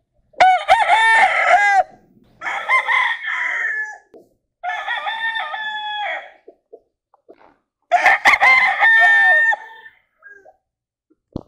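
A rooster crows loudly and close by, four long drawn-out calls separated by short pauses.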